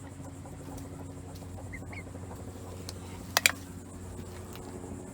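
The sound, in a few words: backyard chickens clucking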